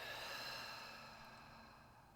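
A long exhale during a breathing exercise: a soft, breathy rush of air that starts fuller and slowly fades over about two seconds, close and quiet, with no speech.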